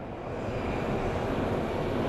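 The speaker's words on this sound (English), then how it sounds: "Our American Airlines flight that is headed to London is pushing back." An American Airlines airliner being pushed back for a London flight at Sky Harbor International Airport gives off a steady, low engine rumble that holds level throughout.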